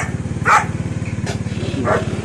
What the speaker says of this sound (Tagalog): May aso, laki ng aso.